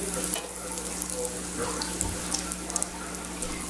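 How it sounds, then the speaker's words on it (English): Flour and breadcrumb coated shrimp deep frying in oil at 350 to 375 degrees, giving a steady, moderately quiet bubbling crackle with scattered small pops over a low background hum. "now we have the first batch of shrimp ready to fry"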